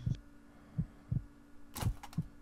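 Heartbeat sound effect from the video game Death End Re;Quest 2: muffled low thumps in a steady lub-dub rhythm over a faint hum, with a brief brighter clatter near the end.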